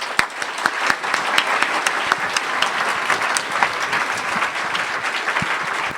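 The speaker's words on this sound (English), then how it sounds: "Please welcome him with a big round of applause." A conference audience at Rakuten Tech Conference 2014 claps to welcome a keynote speaker, a dense, loud and steady ovation that runs unbroken throughout with no voices over it.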